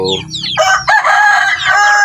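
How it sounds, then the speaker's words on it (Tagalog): Farm chickens clucking close by while a rooster crows loudly over them, a short burst of layered fowl calls. "Ayan, yung ating mga manok."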